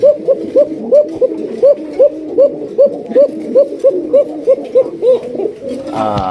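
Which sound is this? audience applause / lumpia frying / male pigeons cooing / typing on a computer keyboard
male pigeons cooing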